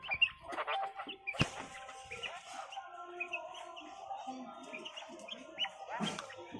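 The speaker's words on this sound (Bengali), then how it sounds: "এই যে কোয়েল মুরগিগুলো" Caged quail give short chirps and clucking calls at a farmhouse, with scattered sharp bird notes over a quiet background and faint human sounds now and then.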